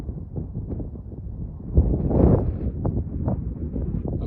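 Wind buffets the microphone outdoors while an RC Volantrex ASW-28 glider is flown slope-soaring into a strong headwind, a steady low rumble that swells in a louder gust midway.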